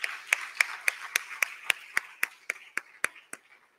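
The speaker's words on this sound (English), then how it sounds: "a final round of applause for the conversatory piece." A steady run of about a dozen single hand claps at the close of a conference talk, evenly spaced and fairly sharp, fading slightly toward the end with no voices over them.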